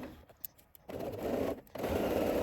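A sewing machine starts and runs along a jacket lining seam, sparse clicks giving way to a sustained whirring drone with a short pause before resuming, close and moderately loud.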